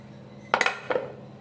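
A knife trims the stems off chili peppers before roasting, producing two short clinking bursts of metal against a plate or board, close and crisp, with quiet between them.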